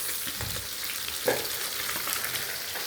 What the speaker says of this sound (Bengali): এখানে অরতা মাছ ভাজতেছি